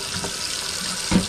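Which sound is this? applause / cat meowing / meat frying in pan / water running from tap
water running from tap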